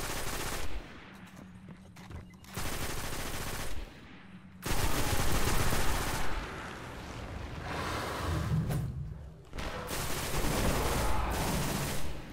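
Loud, sustained bursts of automatic gunfire in the Destiny video game, rattling on and off in dense volleys with brief lulls between them.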